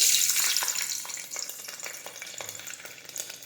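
Garlic dropped into hot oil sizzles loudly at first, then settles into a steady crackling fry with light pops and stirring, no voices.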